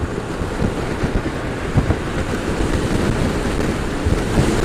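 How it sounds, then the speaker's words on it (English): Strong wind buffets the microphone near the Golden Gate Bridge, a continuous loud roaring rumble with gusty surges throughout and no talking. "the wind was so strong it nearly blew us off the bikes here."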